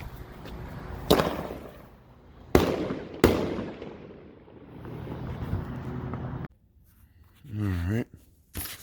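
A Double Threat salute firework goes off in a few sharp, loud bangs with echoing tails, followed by a brief voice in between.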